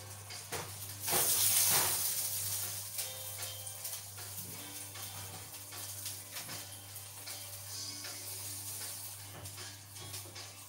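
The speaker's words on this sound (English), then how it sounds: "So our lovely tomato is grilling down, it's really grilling in the oven." Tomatoes grill in an oven with a soft, steady hiss and sizzle, briefly louder near the start, then settling under a constant low hum.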